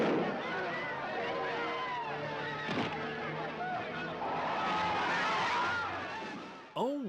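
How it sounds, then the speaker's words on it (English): Gunfire from a 1957 film, The Amazing Colossal Man, a few sharp cracks set in a dense, distant-sounding soundtrack of shouting crowd and music, moderately loud throughout. "6 minutes left and we finally get gunfire."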